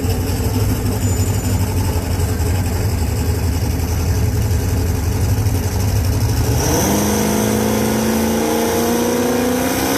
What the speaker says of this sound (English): James Lawrence, right lane, red Mustang.